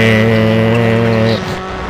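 A rally car engine in a video game holds a high, strained steady whine at max RPM with stacked harmonics, then drops off abruptly near the end, leaving a rougher lower rumble.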